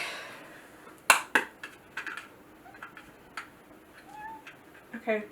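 A house cat meows for wet cat food, several short separate calls and clicks spread over a few seconds, fairly close and moderate in loudness in a quiet indoor room.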